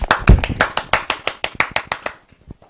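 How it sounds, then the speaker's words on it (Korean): A small audience at a physics talk concert claps in a sparse, uneven patter of distinct handclaps, close and fairly loud, thinning out to a few scattered claps before stopping. "박수 부탁드릴게요."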